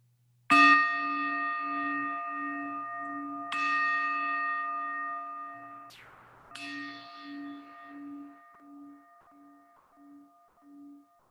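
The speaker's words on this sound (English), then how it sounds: "You'll hear the bells in just a moment." Three bright bell strikes ring out a few seconds apart, each with a long shimmering harmonic decay, fading into quiet lingering tones at the end.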